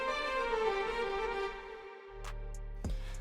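A solo violin preset from the Nexus synth in FL Studio plays a sustained melodic line. Near the end, a deep bass note and a percussive hit enter, and no one speaks.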